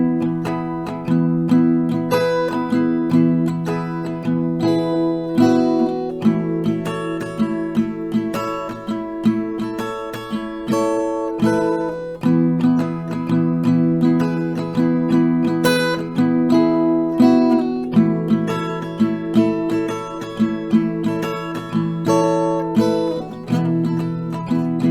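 Acoustic guitar working through a song, mixing single picked notes with strummed chords in a steady rhythm, close and clear, with no voices.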